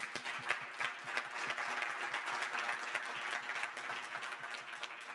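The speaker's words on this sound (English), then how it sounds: "Let's give them some applause." Audience applause for the speakers at the close of a panel discussion on the Fourth Industrial Revolution, held in Qatar. Many hands clap in a steady, dense patter at moderate volume throughout, with no talk over it.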